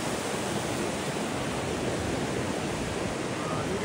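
Meltwater stream running down a mountainside near a Tibetan village, a loud, steady, broadband rush of flowing water filling the whole scene without a break.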